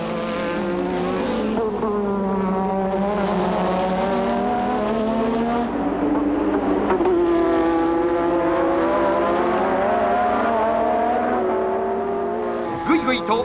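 Williams Honda Formula 1 cars from 1985 racing, high engine notes that climb and shift pitch as the cars pass, with a commentator talking over them throughout.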